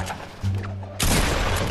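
A low hum drops out and a sudden burst of rapid gunfire erupts, loud and dense, continuing to the end.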